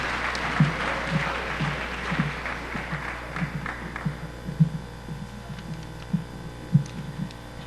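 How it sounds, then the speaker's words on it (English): An audience at a high school yearbook ceremony claps in a thin, scattered way over a steady electrical hum, with a few sharper individual claps standing out as it fades. "Please join me in giving them a round of applause"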